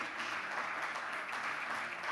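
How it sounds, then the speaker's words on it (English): Audience applause for a speaker at an annual banking and finance meeting, steady uniform clapping from a crowd heard as a continuous faint wash throughout. "A round of applause, ladies and gentlemen"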